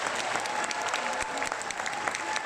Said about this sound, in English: A huge round of applause to her performance, I think, is in order.